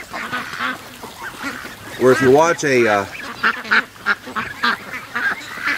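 Geese and ducks grazing on grass give loud, close honks and quacks in a burst, mixed with ripping, tearing sounds of grass as someone talks over them.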